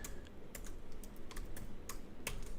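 Code is typed on a computer keyboard in a steady, close run of crisp keystrokes, uneven in spacing, with no voice over them.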